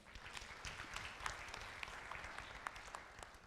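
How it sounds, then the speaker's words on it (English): Conference audience at a national healthcare quality improvement meeting applauding, a dense, steady wash of many hands clapping with sharper individual claps popping out, sustained evenly throughout. "very big clap."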